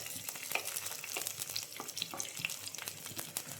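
Chopped garlic and a small piece of ginger sizzle steadily in hot oil with fennel seeds in a pan for green peas masala, with scraping stirs and crackling pops close up and no voices.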